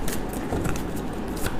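A deck of tarot cards is shuffled up close in a brief, quick papery riffle with light flicks and rustles.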